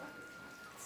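Steady rain falls across the whole moment as a broad, even hiss with no separate drops standing out, on a hill farm in the mountains, and a faint tone runs underneath it.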